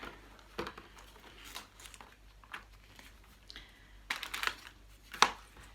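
A plastic bag crinkles and rustles in short, separate bursts as a children's board game set is unwrapped, close by and fairly quiet, with no talking.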